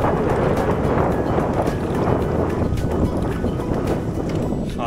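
Strong wind sweeping across a lake during a multi-day canoe trip on Saimaa, a loud, constant roaring rush buffeting the microphone throughout, with no clear talking.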